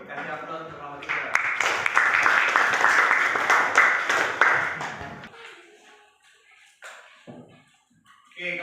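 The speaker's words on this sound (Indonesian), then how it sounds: "Kasih aplaus untuk kelompok 3." Applause from a classroom audience for a group presentation: several seconds of dense, steady clapping that fades out, followed by scattered talk and stray sounds.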